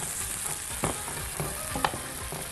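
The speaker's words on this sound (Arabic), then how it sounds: "خلاص لسان العصفور بدا يفلفل معانا كده ويتشوح كويس" Lisan al-asfour pasta with chicken sizzles steadily as it is stirred and sautéed in a pan, with a few louder scraping stirs breaking through the continuous frying hiss.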